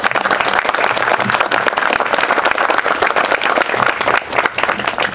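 An audience at a Korean War 73rd anniversary ceremony applauds veterans, a loud, sustained burst of many hands clapping close by with a faint crowd murmur.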